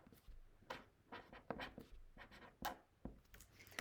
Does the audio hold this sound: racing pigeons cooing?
no